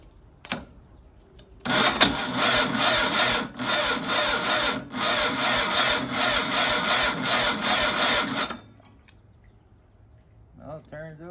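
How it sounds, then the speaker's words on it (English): A Malibu Grand Prix go-kart engine cranks and turns over with a loud, sustained rasping churn lasting several seconds before cutting off, with brief quieter sounds before and after. "Well, it turns over pretty good."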